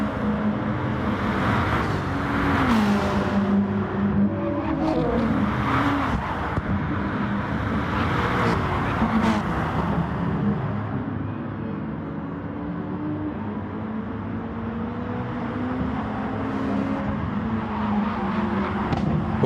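Race cars lapping the Suzuka circuit in a racing simulator, with engines rising and falling through gear changes and passing cars sweeping by, plus occasional tyre squeal, all loud and continuous.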